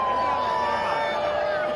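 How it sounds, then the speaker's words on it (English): A big cricket stadium crowd during a Pakistan versus India match cheers in a steady, distant roar. A commentator's voice runs over it for the whole short stretch. "Crowd's just loving it."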